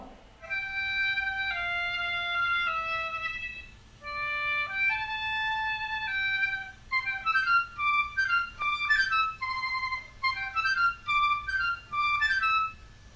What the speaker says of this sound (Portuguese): Esse é o som da flauta.